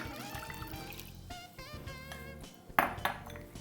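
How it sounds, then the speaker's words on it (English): Two cups of water poured into tomato paste for a sauce, a soft trickle with clinking of a cup or pan and a couple of sharp metallic pings near the end. "To this I'll mix 2 cups of water"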